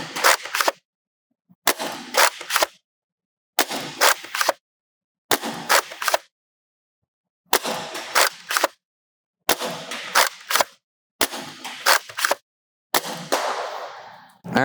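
Siren Maulr foam dart blaster firing heavier darts, eight loud, sharp mechanical shots, each a short cluster of clacks, spaced about one and a half to two seconds apart with silence between them.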